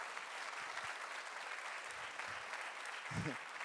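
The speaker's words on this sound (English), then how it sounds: "Can we give them a massive round of applause" Audience at a startup conference awards announcement giving a sustained round of applause, an even, continuous crowd clapping at moderate distance with a few faint voices underneath.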